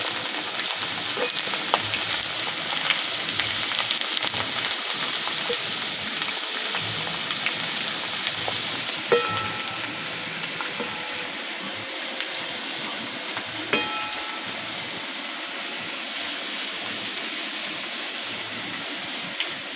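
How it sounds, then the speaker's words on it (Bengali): Handfuls of shredded potato deep-fry in hot oil with a dense, continuous hiss and bubbling that stays loud and even for nearly twenty seconds, broken only by an occasional faint clink. "এই সময় কিন্তু আলুগুলোকে ভেজে নিতে হবে।"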